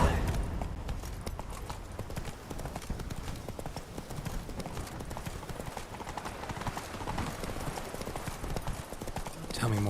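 A horse galloping under a rider in The Witcher 3, rapid hoofbeats pounding steadily and close throughout over dense game ambience, with a faint whinny near the start.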